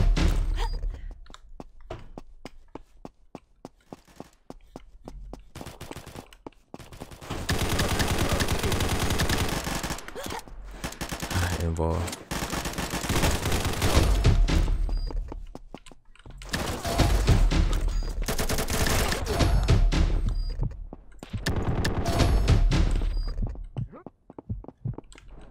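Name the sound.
gunshots in a video game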